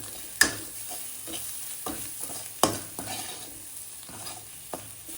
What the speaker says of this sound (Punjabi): ਲਾਲ ਮਿਰਚ ਪਾਊਡਰ ਮਿਕਸ ਕਰਾਂਗੇ ਚੰਗੀ ਤਰ੍ਹਾਂ